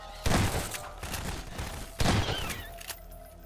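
Bursts of gunfire in the horror game Hell's Prison, with two heavy volleys of rapid shots and sporadic reports between them, loud and close, without talk.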